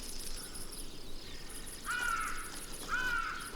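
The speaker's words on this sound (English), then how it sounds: "Faced with the chick's insistent cries for more" Missel thrush chick giving repeated insistent begging cries, two clear rising-falling calls in the second half over a steady high background of insects and birds, with no talk.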